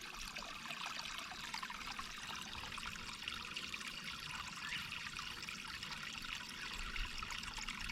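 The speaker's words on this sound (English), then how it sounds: "it's going to start pouring into the other side" Water pours steadily through a filter sock into the other side of a homemade bait tank, a continuous close trickling and splashing wash lasting throughout without pauses.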